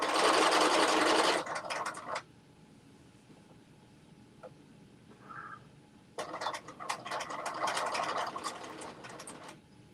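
A home sewing machine stitches a seam on a Butterick jumpsuit in two steady whirring runs, one short and one longer, separated by a quiet pause, loud and close with no talking.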